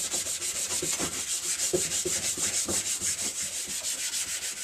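Satin paint on a Harley-Davidson XL883 Iron is scuffed by hand before a respray, giving steady, rhythmic back-and-forth sanding strokes, close and fairly loud, with no voices.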